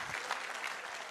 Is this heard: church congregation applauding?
yes